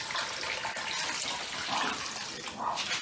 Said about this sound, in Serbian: Nalijemo vode